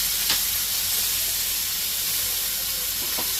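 Chopped onions sizzle in a pan of golden-browned ginger-chili paste, giving a loud, steady, broad hiss with a couple of faint clicks and no voices.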